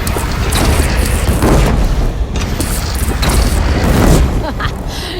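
Cannon fire in the video game Horizon Zero Dawn: repeated heavy booms and bursts over clattering combat noise, loud and close.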